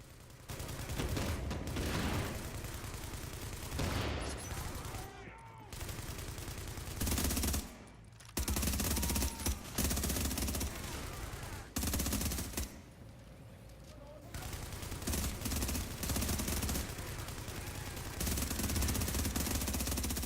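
An L86 light machine gun fires in an online shooter in long sustained bursts. The rapid gunfire is loud and close, broken by brief pauses and a few quieter gaps.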